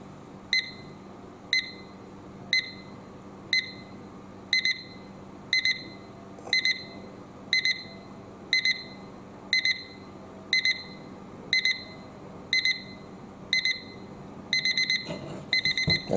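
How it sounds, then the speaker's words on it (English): A Plumeet digital alarm clock beeps in short bursts, starting quietly, repeating about once a second and growing louder and quicker near the end. "So let's give this a few seconds and listen to the alarm."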